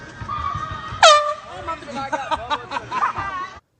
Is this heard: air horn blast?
yes